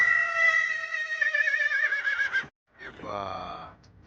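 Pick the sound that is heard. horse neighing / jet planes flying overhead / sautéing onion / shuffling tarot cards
horse neighing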